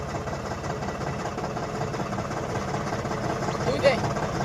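John Deere tractor engine idling steadily with a low, even rumble that holds throughout, with people talking over it nearby.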